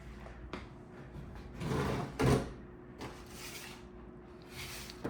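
A desk drawer in a hotel room slides open with a soft rumbling scrape over a quiet room hum, followed by a muffled knock, faint and close.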